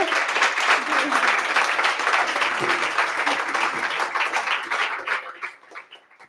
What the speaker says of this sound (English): let's give a round of applause to Amanda